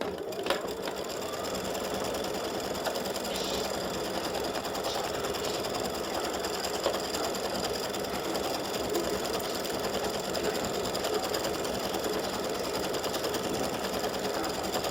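An embroidery sewing machine stitches the foam on a beer mug design for St Patrick's Day earrings and a pendant, using white thread on top and in the bobbin. Its rapid, even whir runs steadily throughout, close and alone.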